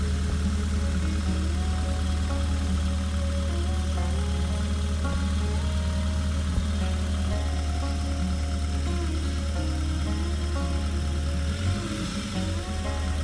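A fuel-injected car engine idles with a steady, even hum and low rumble, close and constant throughout, with a slight change in tone near the end.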